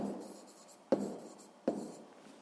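A pen scratches across paper while numbers are written down for a sixth-grade maths exercise, soft continuous strokes broken by two sharp taps as the pen meets the page.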